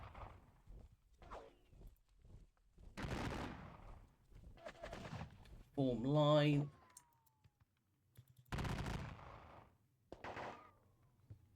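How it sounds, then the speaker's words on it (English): Bursts of rapid video game gunfire crackle between stretches of someone talking, with clicks and keyboard taps in the background. "Put in a little bit of gunfire to him."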